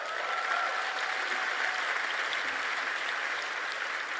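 A large indoor audience at a campus speaking event applauds steadily, a dense, even wash of clapping that holds at the same level throughout without a break.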